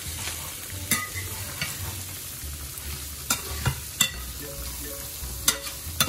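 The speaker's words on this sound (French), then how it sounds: "Et je mélange tout." Garlic, cumin and all-purpose seasoning being mixed into small fish, with a faint background sizzle broken by several sharp clinks and scrapes at an irregular pace, close and without speech.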